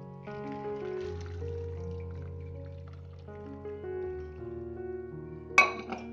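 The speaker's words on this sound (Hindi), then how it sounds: "और ये सारा पानी हमने ड्रेन आउट कर देना है।" Hot water drains from a pot of boiled macaroni in a steady, gurgling pour with ringing tones, ending in a brief splash near the end and no talk.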